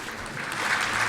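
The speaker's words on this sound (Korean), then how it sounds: "다시 한번 큰 박수 부탁드립니다" Steady audience applause at a panel session of an urban-future forum, a dense wash of many hands clapping together, sustained and fairly loud throughout.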